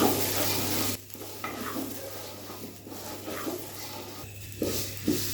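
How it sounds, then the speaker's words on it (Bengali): Rice frying in a large pot over a low-medium flame for a spicy pulao, with a soft sizzle and intermittent scraping stirs, plus a low steady hum from the stove. "এবার লো টু মিডিয়াম ফ্লেমে চালটাকে প্রায় 5 থেকে 7 মিনিট ভেজে নেব"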